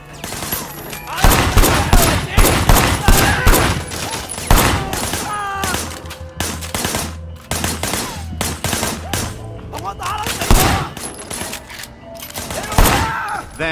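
Repeated bursts of gunfire from a shootout in the open-world action game Sleeping Dogs, loud and dense, with rapid volleys layered over game effects and some voices.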